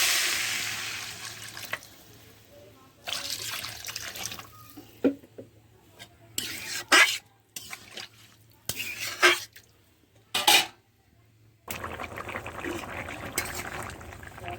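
Water poured from a vessel into a pan of potatoes and amaranth greens, a soft splashing pour at first followed by scattered clinks and brief pouring bursts, with no talking.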